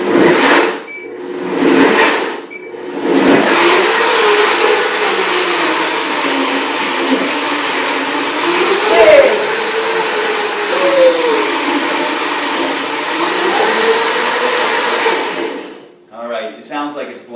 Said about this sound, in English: And I'm going to blend right now.